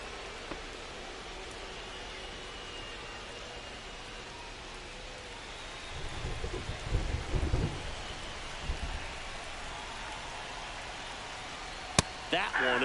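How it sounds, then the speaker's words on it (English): Steady rain pours throughout a baseball game in MLB 25, a dense hiss with a rumble of thunder rolling in midway and a sharp crack near the end, with faint crowd texture beneath. "This rain is not letting up."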